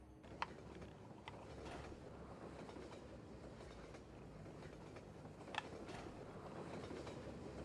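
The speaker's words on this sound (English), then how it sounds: "Gotta catch a train." A train in the Half-Life 2 video game rumbles steadily at a distance, a low continuous rolling drone with a couple of sharp metallic clanks breaking through.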